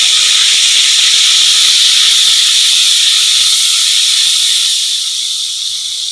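Onion paste hits a hot pan and sizzles loudly: a dense, continuous hiss that stays close and strong throughout and eases off slightly near the end.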